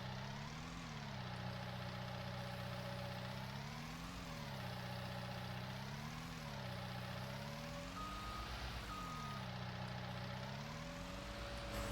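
In Farming Simulator 19, a 4,000 to 5,000 pound skid loader spreading gravel, its engine droning steadily with rising and falling revs on each back-and-forth pass, and intermittent reversing beeps, close and continuous.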